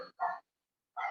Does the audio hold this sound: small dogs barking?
yes